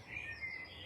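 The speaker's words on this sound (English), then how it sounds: "You can hear the birds roosting" Evening birdsong as birds settle to roost outdoors, faint high chirps and a thin twittering line over a quiet low background hum, distant and soft without any talking.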